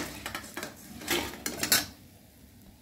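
Metal utensils clink and scrape against a pan of mustard oil while lifting fried fritters out, in a series of light, irregular taps and clatters, fairly close, then a quieter stretch.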